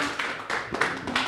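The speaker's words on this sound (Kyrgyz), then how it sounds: "Биринчи топко кол чаап ыраазычылыгыбызды билдирип коелук" A classroom of students clapping for the first group after its presentation, a short, scattered burst of handclaps with uneven rhythm.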